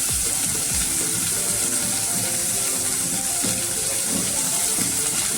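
Chopped onion fries with cauliflower and potato in a pan, giving a dense, constant sizzle and crackle close by with no pauses.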